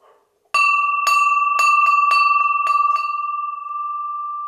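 A cast metal bell of about 5 kg, a larger harness-type bell, is struck repeatedly in about eight close, bright clangs, then left to ring out with a long, steady sustained tone, heard near and alone.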